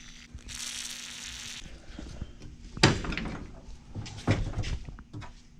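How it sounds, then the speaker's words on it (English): A Chevy C30 truck door is worked open and shut, giving two sharp metallic clunks from the latch and hinges. A brief hiss of spray comes before them, with quiet handling noises in between. "And so this door opens up pretty nice, but we're gonna lube it up anyways."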